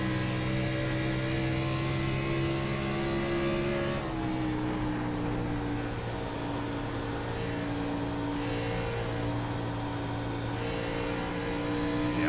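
Onboard engine of an Xfinity stock car lapping Dover in a racing video game, a steady loud drone of stacked harmonics with a sharp pitch drop as the driver lifts off the gas, then a lower even hum.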